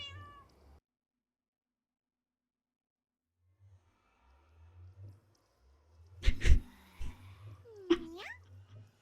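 A video game texture pack plays cat meows, a short meow at the start, then a quiet gap, then several close, clear meows and chirps toward the end.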